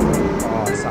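An Audi RSQ8 Vorsprung fitted with an Urban body kit gives a loud, close, steady engine roar with a dense low rumble throughout. Voices can be heard faintly over it.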